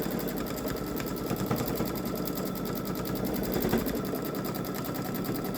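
A Babylock Solaris Vision embroidery machine stitching an edge-to-edge quilting pattern in the hoop, giving off a fast, steady mechanical rattle of needle strokes that runs on evenly and close by with no talking.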